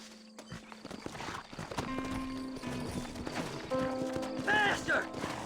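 Hooves clip-clop at a walking pace in the video game Red Dead, with a horse whinnying near the end and speech over the top.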